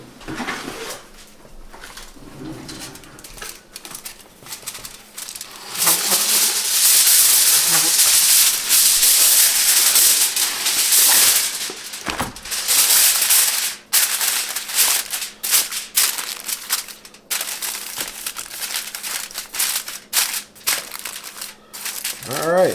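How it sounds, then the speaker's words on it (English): Aluminum foil is crinkled and pressed over a keto lasagna dish, bursts of loud crackling and rustling, sparse at first and then dense for several seconds, tapering into scattered crinkles, with a voice speaking at moments. "I'm actually going to take a piece of foil and cover it with foil"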